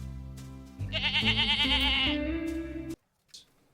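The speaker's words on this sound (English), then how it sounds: "The boy sat alone, watching the sheep graze." A single sheep bleating on a quiet hillside pasture, a loud wavering call lasting about two seconds close by, followed by a brief softer sound.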